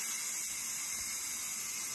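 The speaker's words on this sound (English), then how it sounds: "to release the steam on this, you just press the button and it does the quick release." A quick cooker vents steam through its quick release button, a steady bright hiss close by, constant and unbroken with no talking.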